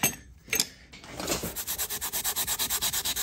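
Close rhythmic scrubbing of a drill press motor with a Scotch-Brite pad and WD-40 opens with a few irregular rubs, then settles into quick, even back-and-forth strokes.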